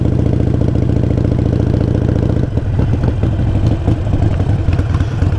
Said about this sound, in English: start rolling on the throttle. Just a little bit.